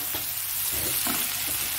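Water poured into a pan of Bengali fish curry with bhola fish, the hot spiced base hissing and bubbling in a steady close sizzle with soft stirring bursts, no voices.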